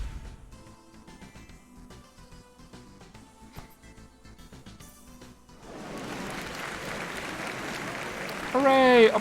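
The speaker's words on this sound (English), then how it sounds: "Hooray! Applause!" Applause sound effect from the Phoenix Wright: Ace Attorney – Spirit of Justice courtroom game, a dense burst of clapping that kicks in partway through after quieter game music and swells louder toward the end.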